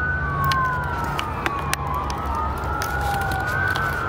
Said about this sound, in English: I'm gonna wait until that ambulance gets away from me.